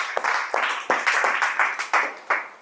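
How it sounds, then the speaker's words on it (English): Applause from a Toastmasters club meeting audience, a modest group clapping steadily at close range with distinct individual claps audible, no talking over it. "a huge round of applause for all of the role takers of Bright Hearts Toastmasters"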